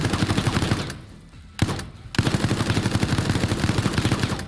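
Rapid, evenly spaced bursts from an air cannon in the Resident Evil Resistance video game, loud and close, pausing for about a second before resuming in a steady stuttering volley.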